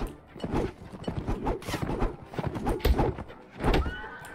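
Horses neighing and hooves clattering in the medieval battle game Mount & Blade: Warband, with busy, uneven galloping thuds, a whinny and battle clutter close up.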